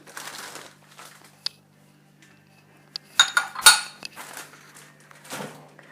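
Potato and tuna gratin ingredients being mixed with spices in a dish, soft rustling interrupted by sharp clinks and clatters of utensils against a bowl, close and intermittent.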